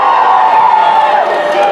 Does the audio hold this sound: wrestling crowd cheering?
yes